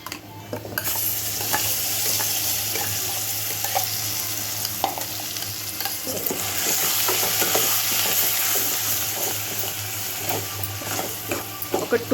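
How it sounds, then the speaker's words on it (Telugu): Ground gongura (sorrel leaf) chutney hits a hot tempering of dried red chillies, curry leaves and turmeric, giving a continuous close sizzle with repeated spoon scrapes and stirring clicks throughout. "ఇప్పుడు ముందుగా మిక్సీ పట్టుకున్న చట్నీ కూడా వేస్తున్నానండి."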